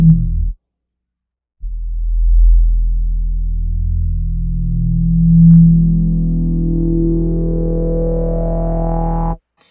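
Roland GR-55 guitar synthesizer playing a PCM synth tone: a single sustained note with a bright rising harmonic sweep across nearly eight seconds, preceded by a brief short tone, clean and loud with no talking.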